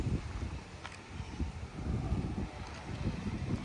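Wind gusts across the microphone outdoors, a steady low rumbling buffet that swells and eases slightly for the whole stretch, with no voices.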